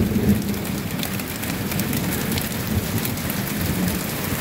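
Heavy rain pours down steadily during an April evening thunderstorm, a dense loud hiss of drops on surfaces with low rumbling underneath throughout, no voices.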